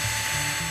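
A power drill bores into bits of beach debris being shaped into fish and seabird figures, giving a steady high-pitched whine that dips in pitch in short stages across less than a second, with no talk.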